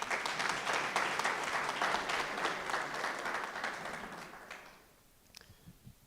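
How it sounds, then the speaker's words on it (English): An audience at a university campus student council inauguration ceremony claps in a dense, even wash of applause that holds steady for several seconds, then fades out, leaving a few scattered claps. "May I request you to applaud them?"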